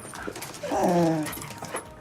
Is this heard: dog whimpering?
yes